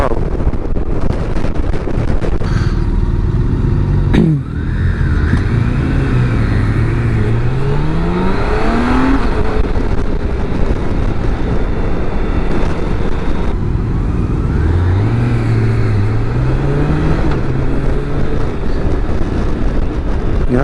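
A 2024 BMW K1600GT motorcycle accelerates hard, its engine note climbing in pitch, then dropping sharply at quick shifter gear changes and rising again, under heavy rushing wind noise, with no clear talk.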